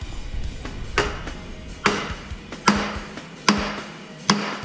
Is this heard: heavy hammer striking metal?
yes